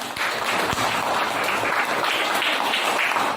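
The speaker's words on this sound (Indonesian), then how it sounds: "Sekali lagi tepuk tangan." Children clapping in a classroom during a lesson, a steady patter of many small hands with a few sharper taps, fairly close and continuous.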